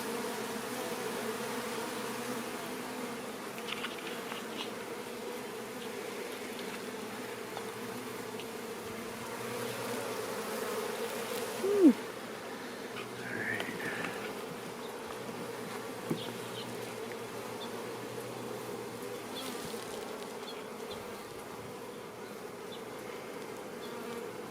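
Honeybees humming in an opened backyard hive, a steady close-up drone with a few individual bees buzzing louder as they pass near.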